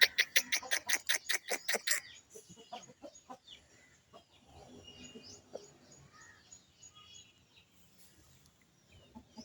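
A fighting rooster lets out a rapid run of loud, close clucks for about two seconds, then quieter scattered clucks and scratching follow in a calm farmyard.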